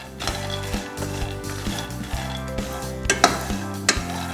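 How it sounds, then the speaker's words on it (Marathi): Peanuts dry-roasting in a pan over a low flame, with a spoon scraping and clinking against the metal in irregular strokes over soft background music. "शेंगदाणे खमंग असे भाजून घ्यायचे"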